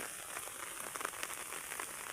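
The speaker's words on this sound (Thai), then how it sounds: "ดูฝน ฝนน่ะบริเวณทำท่าว่าเศร้าเลยนะพี่น้องแบบว่าตกตลอดเวลาฝนน่ะ" Steady rain patters continuously in a dense, even hiss with scattered sharper drops, holding at a moderate level throughout without pause.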